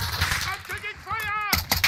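Gunfire in Call of Duty Warzone: loud bursts of shots crackle amid dense in-game action, with a sharp cluster of impacts near the end and a voice-like radio callout tone in between.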